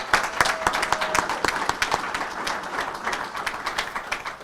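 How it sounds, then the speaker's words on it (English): An audience gives a round of applause at a monthly meeting held in a realtors' association facility: steady, dense clapping from many hands across the whole stretch, close and moderately loud, with no speech over it. "Let's give OCAR a round of applause."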